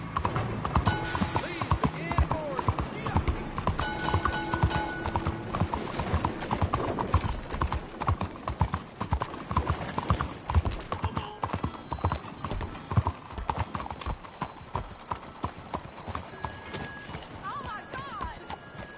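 A horse gallops in the Western video game Red Dead Redemption 2, with rapid continuous hoofbeats, a whinny and riding noise under a dense game soundscape and shouted character dialogue.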